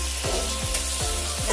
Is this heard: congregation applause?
no